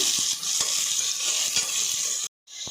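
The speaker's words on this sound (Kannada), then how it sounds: "ಒಂದು ಕಪ್ಪಷ್ಟು ಹೀರೆಕಾಯಿನ ಸಣ್ಣ ಹಾಕ್ತಾ ಇದ್ದೀನಿ ಒಂದು ಕಪ್ಪಷ್ಟು ಸಿಹಿ ಕುಂಬಳಕಾಯಿನ ಈ ಥರ ಹೆಚ್ಚಿ ಇದ್ದೀನಿ ಇದನ್ನು ಸ್ವಲ್ಪ ಫ್ರೈ ಮಾಡ್ಕೋಬೇಕು" Pieces of ridge gourd and sweet pumpkin fry in a pan with a loud, dense hiss and faint stirring clicks, broken by a brief silent gap near the end.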